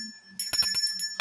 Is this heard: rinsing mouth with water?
no